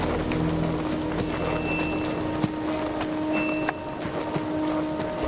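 Steady rain patters over a broad hiss in the video game Kingdom Come: Deliverance 2, with occasional louder drops and faint tonal hums in the background.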